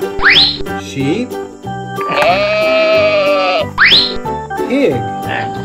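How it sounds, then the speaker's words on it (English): Electronic sheep bleat from a farm animal toy in a wooden box, with a green tractor among the toys, sounding two loud tonal bleats with a long wavering call between them over a busy jingly background. "Sheep."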